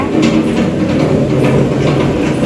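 A wet grinder churns chutney in a home kitchen, giving a loud, steady mechanical rumble with a grinding churn that runs without a break and has no voices over it.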